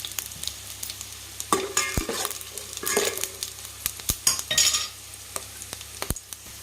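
Cashews, a few peppercorns and cumin seeds fry in hot oil for jeera rice, a soft steady sizzle with occasional spoon clinks and stirring scrapes against the pan, close by and without speech.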